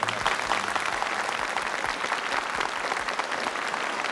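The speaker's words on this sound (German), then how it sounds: "Ein kleiner Applaus." A studio audience at a German TV variety show claps in steady, dense applause after a gold record presentation, loud and sustained throughout without talk.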